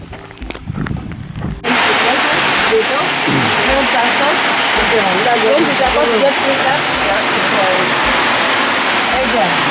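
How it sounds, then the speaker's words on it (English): Rain starting to fall in a rural garden area in Namalu Subcounty, Northern Uganda, a dense steady hiss that bursts in after a couple of seconds and holds loud and close, with brief noises at the start. "It's starting to rain."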